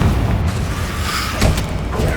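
Confringo blasting spell in Hogwarts Legacy, heard as a loud, dense rumbling boom that fills the whole clip, with a sharper burst near the middle.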